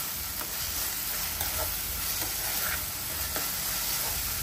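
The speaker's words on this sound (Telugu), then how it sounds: "ఇవి మాడిపోకుండా ఎమ్మడెమ్మడి కలుపుతూనే ఉండాలా" Ginger garlic paste frying in oil in a pan while it is stirred continuously for a prawn curry. A steady close sizzle is broken by soft scraping stir strokes, with no talk.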